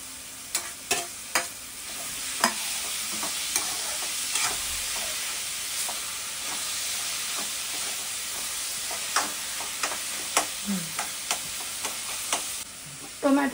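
Tomatoes going into a pan of onions frying until pinkish, a continuous hissing sizzle with sharp scraping stirs and clinks scattered throughout, close and fairly loud.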